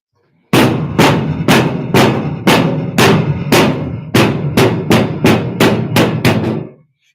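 A hammer strikes metal during cloisonné enamel work, about a dozen loud, sharp, close blows landing in a steady rhythm with a brief ringing decay after each.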